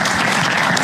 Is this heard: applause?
yes